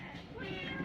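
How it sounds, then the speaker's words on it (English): A Bengal cat gives a short meow near an indoor cat wheel, with a person talking over it. "As you can see, we've got Crystal, that's in the cat wheel there, just slowly running."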